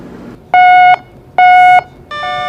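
Fire alarm on a ship sounding in loud, steady electronic tones, three separate beeps each lasting about half a second with short gaps between them, heard alone and close.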